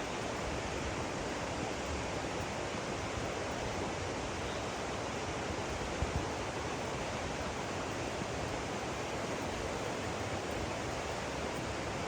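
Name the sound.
river flowing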